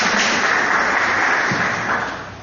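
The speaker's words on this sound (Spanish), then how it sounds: "Dele fuertes palmas que son para él." A church congregation claps loudly and steadily after a prayer, a dense wash of applause that holds evenly and then fades toward the end.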